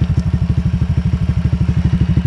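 A Honda Click 125 V3 scooter fitted with a T4S aftermarket exhaust pipe idles close by, giving a steady, deep, evenly pulsing exhaust throb that runs throughout and is heard alone.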